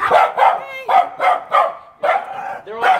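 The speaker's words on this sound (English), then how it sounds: "This is the deeper bark." Loud, close dog barking in a quick series of deep woofs, about eight barks with short pauses between them.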